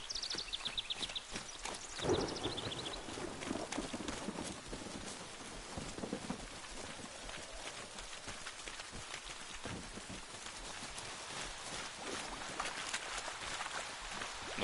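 Horse hooves clip-clop steadily in The Witcher 3, a soft continuous patter with a rain-like hiss and no voices.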